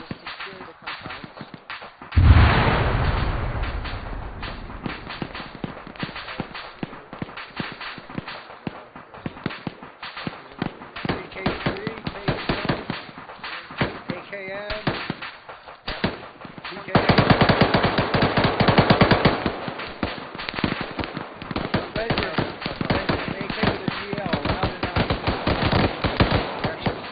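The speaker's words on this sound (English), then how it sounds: "We're still taking shots southeast, careful." Video game firefight with rapid automatic gunfire, machine-gun bursts and scattered single shots, some close and loud, others more distant, running continuously over squad radio chatter.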